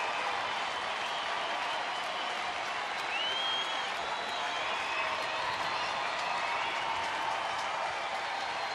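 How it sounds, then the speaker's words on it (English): A baseball stadium crowd at a Rangers home game makes steady, dense noise on cue from the public address announcer, a sustained roar of cheering and clapping with a faint whistle rising through it. "the crowd making some noise at the direction of Chuck Morgan"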